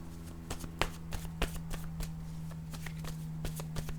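Word cards are shuffled and drawn for a reading, producing a quick series of soft, close papery flicks and snaps over a few seconds.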